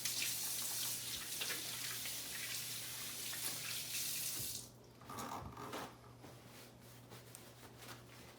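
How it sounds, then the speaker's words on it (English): Hands being washed under a running kitchen tap after handling raw meat: a steady rush of water for about four and a half seconds, then the flow stops and a few splashes and drips follow. "because I handled raw meat, I'm going to have to wash my hands before I get to making the meatballs"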